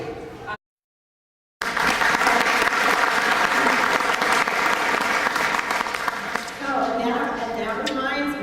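An audience claps at an owl festival's live bird presentation: a thick, sustained burst of applause that cuts out briefly near the start, then resumes strongly before a speaking voice rises over the fading clapping.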